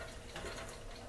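Liquid pours from a stainless steel bowl onto a mix of wild ramps for pickling, a soft, steady splashing trickle that runs briefly and quietly on its own.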